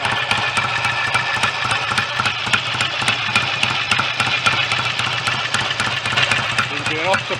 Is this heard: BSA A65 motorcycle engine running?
yes